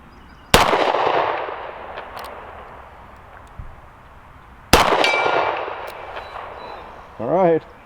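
A Taurus Model 85 .38 Special five-shot revolver fires two loud, sharp shots several seconds apart at steel targets, each followed by a ringing decay. Quieter clanks sound between them, and a brief whine comes at the end.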